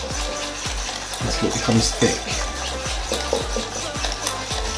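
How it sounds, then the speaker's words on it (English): A whisk beats double cream for a Dalgona whipped drink in quick, rhythmic strokes with a wet, scraping churn. A voice speaks briefly over the whisking. "Now what we're gonna do is we're just gonna whisk that."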